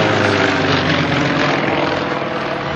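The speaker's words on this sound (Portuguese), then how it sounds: "Sukhoi SU-31, avião russo" A Russian Sukhoi SU-31 aerobatic airplane performs at an air show in Rio Claro, its propeller engine roaring loud and steady throughout, alone with no talk.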